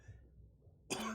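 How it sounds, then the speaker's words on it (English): A single short, sharp cough bursts out near the end after a near-silent moment, close and fairly loud. "Cough."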